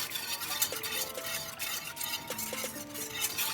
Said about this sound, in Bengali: এখন এটা অনবরত নাড়তে হবে